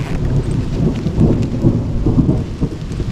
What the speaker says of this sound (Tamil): இடியோட சவுண்டு பாருங்கள்